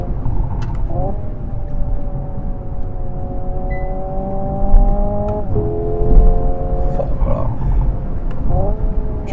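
A 650 hp Hyundai Ioniq 5 N electric car accelerates hard while its motor spins up toward 21,000 rpm. A synthetic engine-like tone climbs steadily and breaks abruptly at each simulated gear shift, over a constant road rumble from inside the cabin.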